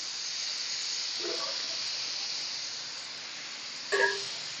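Spice mix tossed into browned garlic and mutton in a hot pot gives a steady sizzling hiss throughout, with brief stirring clinks partway through and again near the end.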